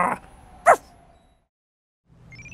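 A cartoon dog gives two short, sharp barks close up, the second a high yelping bark, followed by silence and a faint tonal sound at the end.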